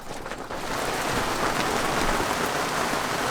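Heavy rain pours down steadily during a storm in New Providence, a dense hiss of drops hitting surfaces that swells in after a quieter first half second.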